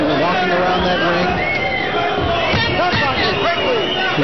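Boxing match arena crowd during a slow round between Camacho and Johnson, a continuous restless hubbub of murmuring and scattered shouts, fairly loud and steady throughout with no single cheer standing out.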